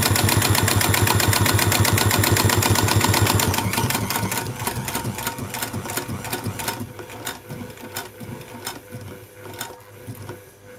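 A vintage Singer 66k sewing machine stitching heavy-duty thread at maximum speed, a loud rapid mechanical clatter that slows after a few seconds into a slower, quieter run of stitches.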